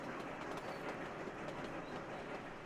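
A train rolls along in the railway-building video game Sweet Transit with a soft, steady rumble and faint rhythmic clatter. It plays quietly and without a break for a few seconds.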